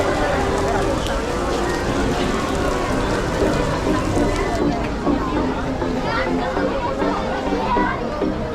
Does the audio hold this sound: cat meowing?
no